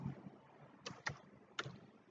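Java code being typed on a computer keyboard, a few sharp separate keystrokes close by in a quiet room, no talking.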